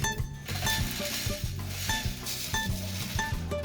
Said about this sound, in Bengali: মশলাটা সুন্দর করে ভাজা ভাজা করে নেব